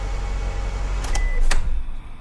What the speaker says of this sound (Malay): Mengapa tingkap dia akan turun.